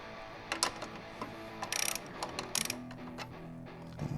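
A wrench ratchets and clicks against a nut on a strut bar in the engine bay of a 2019 Toyota RAV4, faint and close, with short irregular bursts of clicking and metallic taps.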